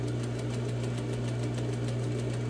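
A sewing machine stitches down a fold along the center front seam of a dress, a continuous even mechanical hum with a fast rhythmic needle patter, close and alone.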